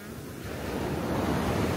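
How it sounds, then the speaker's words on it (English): Ocean waves break and wash onto a short beach on the Outer Banks, a continuous close roar of surf swelling slightly louder toward the end, with wind over the microphone. "not bad once a couple waves come in"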